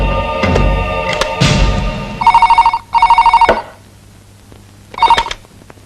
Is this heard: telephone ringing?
yes